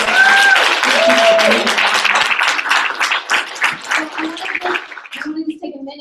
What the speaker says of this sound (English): So let's give Shelly G a big round of applause.